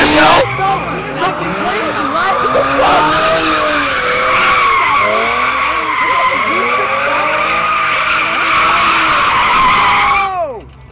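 Cars revving and skidding at a Philadelphia street car meet with Chargers present, loud sustained tire squeal with wavering engine tones over crowd babble, ending abruptly.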